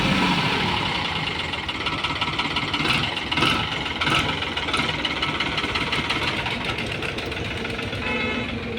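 A 2008 New Holland tractor idles at a tractor market, giving a steady knocking diesel rumble with slight vibration that continues without a break.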